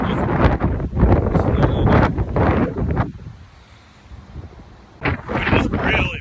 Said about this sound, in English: Wind is really picking up now.